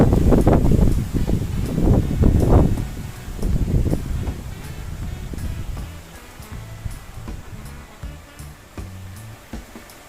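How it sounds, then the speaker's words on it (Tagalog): Strong wind buffets the microphone in loud gusts that ease off over time into a softer, steady rush. "Lakas ng hangin, no?"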